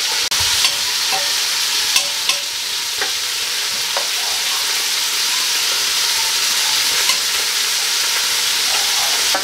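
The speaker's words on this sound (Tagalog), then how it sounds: "ihulog na natin yung sibuyas, bawang at saka luya." Onion, garlic and ginger, tipped in together, are stir-fried in a hot pan with crisp pork skin, giving a loud continuous sizzle broken by sharp clicks and scrapes of stirring, with no talk.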